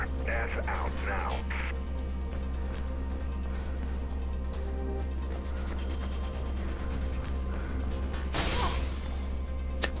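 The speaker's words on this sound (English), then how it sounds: "the glass breaking, that's what fucking up the game" Glass shatters in a burst near the end of a Mirror's Edge game sequence, set against a low steady hum with faint scattered game sounds earlier.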